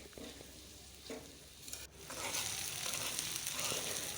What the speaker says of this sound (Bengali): আমার পেঁয়াজগুলো মোটামুটি ভাজা হয়ে গিয়েছে